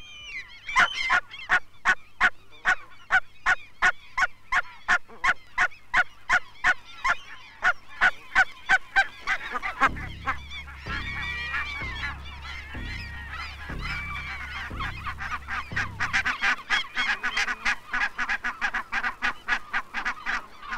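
Barnacle geese honking at a nesting colony, a long series of sharp rhythmic calls from several birds, some close and loud, building into overlapping clamour with a low rumbling wind-like noise in the middle stretch.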